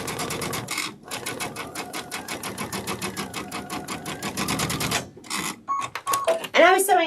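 A sewing machine runs in a steady, rapid stitching rhythm while piecing a sunflower wall hanging, stopping briefly near the start and again after about five seconds, with someone talking over short bursts at the end.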